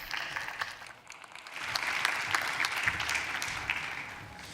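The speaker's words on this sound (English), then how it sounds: "Please give Ms. Chaín a round of applause." Conference attendees at a smart-cities plenary session applaud a Puebla state official: a brief lull gives way to a sustained, moderately loud round of clapping from a hall audience, without speech over it.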